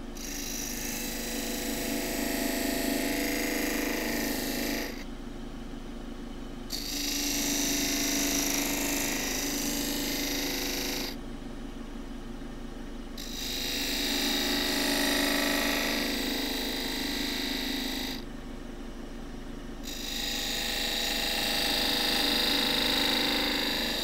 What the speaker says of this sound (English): some sets of beads with my little grooving tool